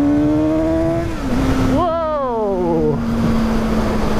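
A 2017 Suzuki GSX-S 750 motorcycle engine sits at a steady high drone, then rises in a sharp rev and falls back, loud and close, with a brief exclamation from a rider over it.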